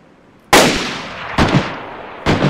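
Gunshots in the video game DayZ on the Vybor military base: three sharp, loud reports spaced about a second apart, each with a short decaying echo, alone without talk.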